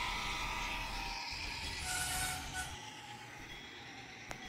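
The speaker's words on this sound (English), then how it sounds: "We're cruising with the Dash 9 and the Big 6 in tow. Again, layout height. Cruising, and boink." An HO scale model train led by a Dash 9 locomotive rolls along at layout height with a steady rumble and wheel noise, then thins out, ending in a single sharp click as it derails.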